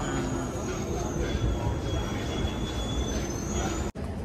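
Pink Line metro train on the Delhi Metro running through a station, a steady rumble and rolling rail noise with a faint high whine, close and continuous before a brief cut near the end.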